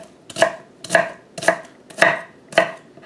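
A knife chops through an onion on a cutting board in five evenly spaced, crisp strokes, close and loud, with no talking.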